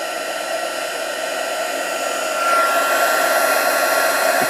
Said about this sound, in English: don't get the heat gun too near your hand